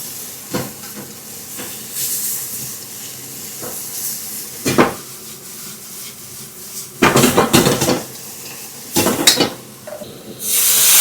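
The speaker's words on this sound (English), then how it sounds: "Leave the heat on high and make sure your onion is nice and vegetables nice and charred." Onion and vegetables charring over high heat in a hot pan while cooking village-style chicken liver, with steady sizzling and hissing broken by clattering bursts of utensils scraping and tossing the pan, loudest near the end.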